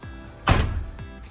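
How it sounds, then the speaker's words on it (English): A 2024 Newmar Ventana 3512 motorhome door is shut once in a single loud, close thud with a brief rattle afterward, followed by a faint second knock near the end. "Gonna shut this door."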